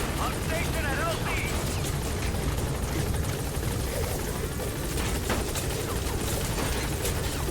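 The Pequod helicopter arrives in the video game Metal Gear Solid V, its rotor making a dense, continuous whirring roar under scattered background game effects while a voice talks over radio.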